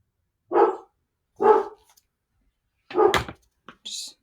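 Several pet dogs barking indoors, four separate close, fairly loud barks spaced about a second apart, the last ones quicker with a short high yip or whine.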